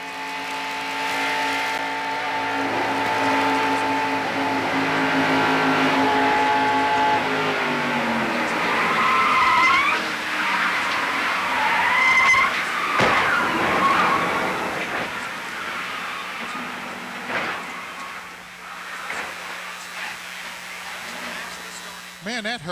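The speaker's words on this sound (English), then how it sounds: "Now let's go inside Buddy Baker's car." In-car camera audio from a stock car at the 1990 Pepsi 400 at Daytona: a loud, continuous engine roar with shifting pitch and some screeching, and a commentator talking over it.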